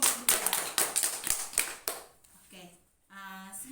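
A small group applauds a presenting team during a training session, a short burst of scattered nearby hand claps lasting about two seconds, after which a voice speaks.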